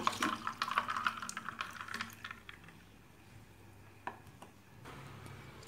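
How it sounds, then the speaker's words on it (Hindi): Pomegranate juice poured into a glass holding ice cubes, with faint clinking and a soft trickle at the start, then fading into quiet. "अब इसमें डालेंगे अनार का जूस।"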